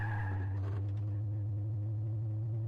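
A car drives in a racing video game, its steady low engine drone running throughout with a brief higher whine early on, and the handling is loose and wiggly.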